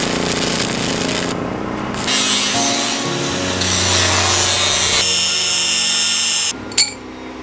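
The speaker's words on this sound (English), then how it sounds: "what we're doing now is cutting these rebar pieces" Rebar pieces being cut with a power tool on a jungle shed build site, a continuous loud grinding and sawing noise with shifting pitch, ending in a sharp metallic burst near the end.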